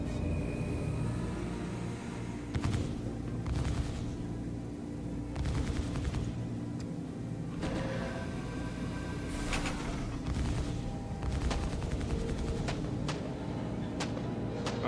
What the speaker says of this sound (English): I hear gunshots, but I can't see who's doing it.